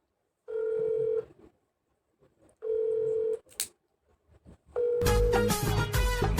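Mobile phone rings in three electronic tone bursts separated by short pauses, the last burst merging into denser musical ringtone sound; close, fairly loud, with no talking during the ringing.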